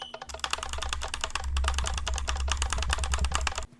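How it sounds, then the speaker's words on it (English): A computer mouse or key clicked very fast while playing Sky Factory 4 in Minecraft, trying to flip a lever. Dense rapid clicks run steadily for about three seconds, then stop abruptly. "I guess I needed to butterfly click this lever."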